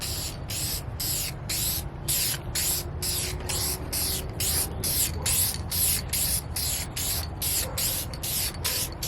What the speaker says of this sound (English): Alright, so we're gonna start spraying the top.